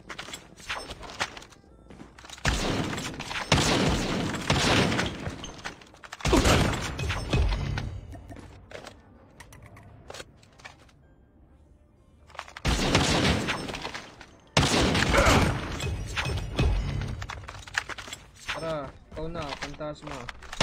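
Shotgun fire in the mobile shooter Call of Duty Mobile, loud blasts in two bursts of game action separated by a quieter stretch, with talk running over the gameplay.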